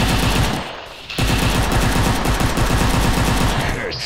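AK5 assault rifle fire in the Maskgun FPS shooting game: loud, rapid automatic bursts crackle almost continuously, broken by a brief lull about a second in, with no voices.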